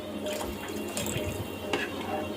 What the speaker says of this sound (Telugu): వేస్తున్నానండి వాటర్ నేను